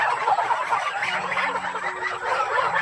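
A flock of geese on a countryside farm, raised in the thousands and grazing on grass, keeps up a dense, steady chatter of honks and gabbling nearby, with no talk.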